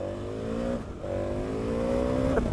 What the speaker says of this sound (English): So you can't talk about the KTM 1290 Super Adventure S without talking about the engine.